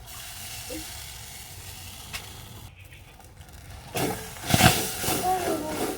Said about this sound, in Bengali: তালের মাড়টা হালকা করে একটু গরম করে নেব এইভাবে নাড়াচাড়া করলে তলায় আর লেগে যাবে না